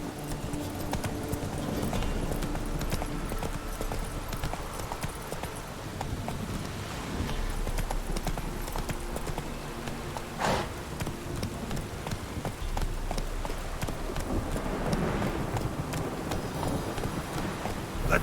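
Horse galloping in The Witcher 3 video game: steady rapid clip-clop hoofbeats run continuously throughout at a close, even level, with a faint whinny and a wind-like wash behind them.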